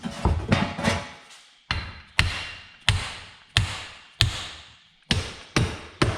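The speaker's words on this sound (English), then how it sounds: "Take it easy on the meat hammer, Jason." Sharp metallic hammer blows strike a Chevrolet Silverado front differential housing in an irregular series, about a dozen hits, each ringing briefly before the next; close and loud, no voices.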